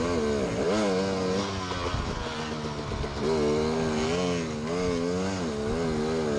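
Dirt bike engine climbing a hill during an Ozark off-road race, revving hard with a wavering, rising and falling pitch as the clutch is feathered, close and continuous.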